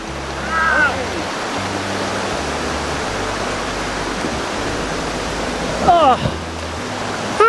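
A cold river rushes past on a hiking trail in Taiwan, a loud, constant roar of flowing water, with brief voices and exclamations breaking in near the start and later on.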